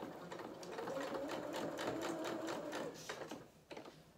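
Sewing machine stitching a seam on small doll clothing, a steady close whirring run of rapid needle strokes that pauses briefly and then resumes with a few short reverse stitches at the end.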